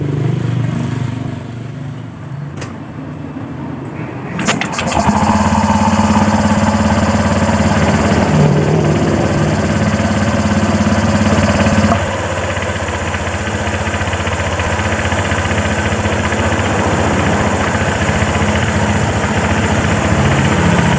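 A Honda Vario 125 scooter, its CVT just reassembled, cranks and catches after a short starter whir, then settles into a steady, loud, close idle with no voices.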